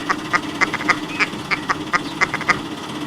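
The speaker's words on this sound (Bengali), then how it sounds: "কখনো বা হাঁসের দলগুলি রাস্তার এপাশ ওপাশ করে পারাপার করছে" A flock of ducks crossing a rural road in Bishnupur quacks in a steady run of loud, nasal calls, about a dozen in three seconds, over a low background hum.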